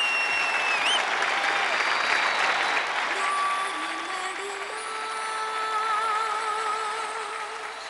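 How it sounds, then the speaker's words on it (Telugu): An audience at a stage dance performance applauds loudly in a sustained wash of clapping, with a few whistles gliding through it. "ఇప్పుడు డాన్స్ పర్ఫార్మెన్స్ తర్వాత గట్టిగా చప్పట్లు కొడితే"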